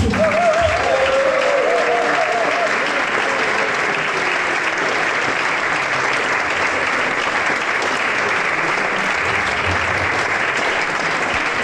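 A big round of applause from a festival audience at an Easter marathon thank-you event, loud continuous clapping that holds steady throughout, with a brief voice early on.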